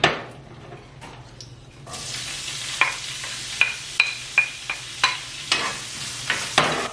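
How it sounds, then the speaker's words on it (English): Chopped onion hits hot olive oil in a pan and sizzles steadily, broken by repeated sharp scrapes and clinks of a spatula stirring against the pan. "So I'm gonna fry this onion"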